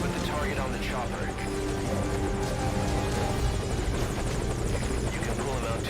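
Helicopter hovering in Metal Gear Solid Ground Zeroes, a steady, close, loud rotor thrum and turbine drone, with voices talking over the noise.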